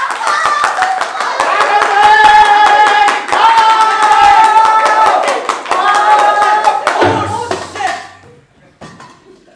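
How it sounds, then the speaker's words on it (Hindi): Loud, dense applause from a crowd fills the air with steady clapping over music, then fades out toward the end. "तालियां।"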